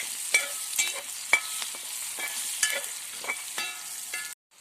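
Onions with salt sautéing in a pan while making crab roast, a steady close sizzle broken by a series of scraping stirs every half second or so, cutting off abruptly at the end.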